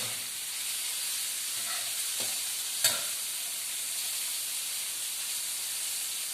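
Shrimp and broccoli stir-frying in a hot pan, a steady broadband sizzle with steam hiss running throughout, broken by a few soft scrapes of the spatula and one sharper clack near the middle, no voices.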